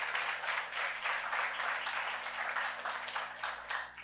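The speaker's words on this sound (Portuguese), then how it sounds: "Vamos aplaudir o Senhor?" A church congregation applauds together, a dense, sustained wash of many hands clapping at moderate distance, steady for the whole stretch with no break.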